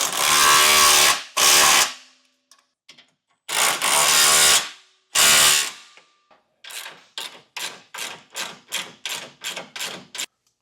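A socket wrench turns bolts while a Roadmaster Direct-Connect base plate is installed on a vehicle. Several long, loud grinding bursts are followed by a steady run of about ten evenly spaced, sharp ratcheting clicks.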